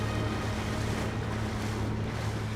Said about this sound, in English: this is the point where the Congo River and the Atlantic Ocean meet